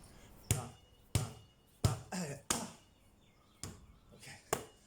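A basketball bounces on a hard floor at home during a dribbling drill, six loud, separate thuds at a slightly uneven pace with brief quiet gaps between them.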